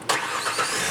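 A truck engine cranks and catches, bursting abruptly into a loud, close running roar that settles straight into a steady idle.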